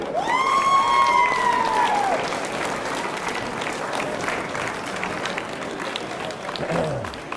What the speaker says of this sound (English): these guys deserve all the applause. Let's give it to them.